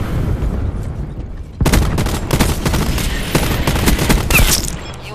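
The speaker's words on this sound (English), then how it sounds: "Cluster grenade going out." Cluster grenade detonations in a Call of Duty-style shooter: after a quieter stretch, a rapid, loud chain of crackling blasts erupts and rattles on for several seconds, dense and close.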